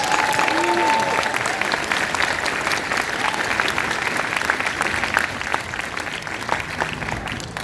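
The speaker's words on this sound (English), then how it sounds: "So now, big round of applause again." A crowd gathered outdoors at the end of the Grenfell Tower silent walk breaks into steady, close applause that carries on for several seconds, with voices faintly mixed in.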